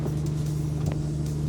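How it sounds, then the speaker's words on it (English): A straight-piped Volkswagen Golf GTI exhaust idles in a steady, close, deep drone that holds even throughout, with no talking. "Curious what a straight piped Golf sounds like?"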